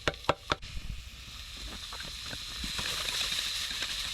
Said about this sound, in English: You fry up your onion, garlic,